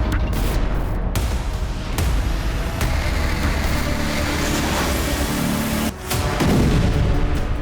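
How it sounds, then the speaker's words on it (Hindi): A Russian missile strike hits a residential building and market area in Ukraine, with several sharp, loud booms standing out over a heavy, continuous rumbling noise. "तभी एक जोरदार धमाका हुआ और आग का गुबार नजर आया। यह रूस की मिसाइल का हमला था।"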